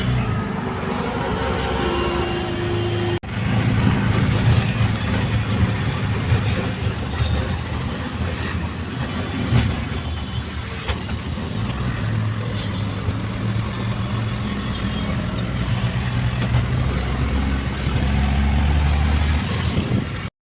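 A car's engine hums steadily from inside the cabin during an Uber ride through the narrow lanes of Tripura, a continuous low drone with road rumble and no talk.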